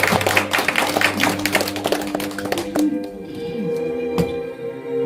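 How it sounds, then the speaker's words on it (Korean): Audience applause in an indoor hall at a poetry recital concert in Seoul: dense clapping for about three seconds, then thinning out as musical tones begin. "박수 한번 보내주세요."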